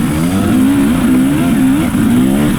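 A carbureted 2018 TX300 enduro motorcycle engine revs steadily up close, a loud, buzzy two-stroke drone that wavers slightly in pitch for a few seconds with no talking.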